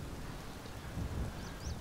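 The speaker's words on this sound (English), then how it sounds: "Still raining." Steady rain and a low rumble of thunder fill a stormy scene in the video game Skyrim, faint and continuous with broadband hiss, and no one talks.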